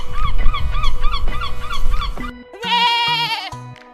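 A goat bleats in a series of wavering, nasal calls, several quick cries in a row, then after a short pause a second longer, strained bleat, loud and close with no talk.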